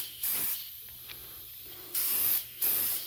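Short bursts of spray paint hiss as red paint goes onto the hood of a Bachmann GE 70 ton switcher, an HO scale model locomotive; three close, loud blasts with brief quiet gaps between them.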